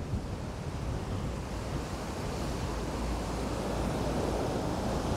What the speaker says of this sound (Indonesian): Anginnya kencang sekali, Cak, dan ombaknya ekstrim banget